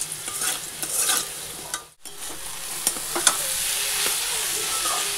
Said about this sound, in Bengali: আলুটা আগে ভেজে তুলে নিই।